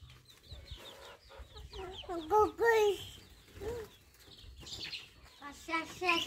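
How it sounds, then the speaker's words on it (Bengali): Chickens and chicks on a small farm cluck and cheep close by in irregular bursts, with a few louder squawks, while people talk quietly nearby. "মুরগি বাইরে যাক।"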